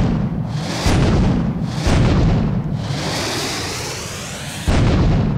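Heavy blasts and gunfire from a toy-store escape video game come as several loud booming bursts, each followed by a long rushing rumble that fades before the next hit.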